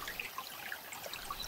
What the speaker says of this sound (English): I've trained myself to listen to the river